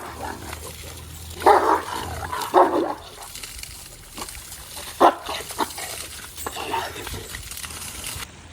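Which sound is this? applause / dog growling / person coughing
dog growling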